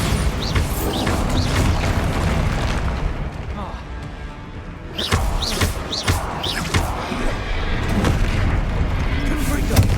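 Bombarda explosion spell cast in a Harry Potter video game, heavy booming blasts amid a busy battle soundscape with other spell effects, loud and repeated, with a voice speaking over the action.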